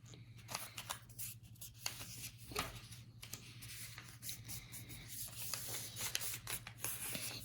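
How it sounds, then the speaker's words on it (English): Paper being creased flat along a fold on the back side while making a New Year craft, heard as repeated close, soft rubbing and scraping strokes over a steady low hum, with no talking. "it will give a good crease on the bottom"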